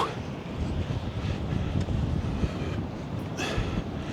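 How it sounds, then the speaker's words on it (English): Strong wind buffets the microphone with a constant low rumble, like gusts across an open beach, with faint surf underneath. "it's just slightly windy now. But, well, it's quite breezy, to be honest."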